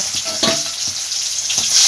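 Pieces of katla fish fry in hot oil with a steady close sizzle, broken by a few soft clinks and stirring movements.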